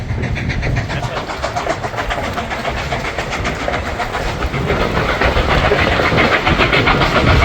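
Reading & Northern 2102 rolls across a trestle, a loud, close train rumble with rapid rhythmic clickety-clack from the wheels that grows slightly heavier toward the end, with no talking.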